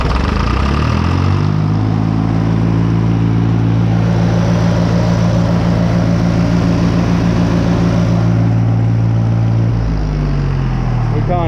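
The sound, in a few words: International 484 tractor engine at full throttle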